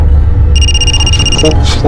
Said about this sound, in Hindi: फोन आ रहा है हमारा